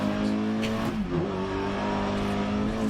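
A rally car in the DiRT 2.0 racing game, a 250-horsepower turbo-engined model, holds a steady droning engine note with a brief dip and recovery in pitch, loud and close throughout, with no talking.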